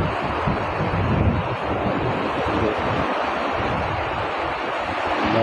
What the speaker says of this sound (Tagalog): Hindi naman masyadong malaking alon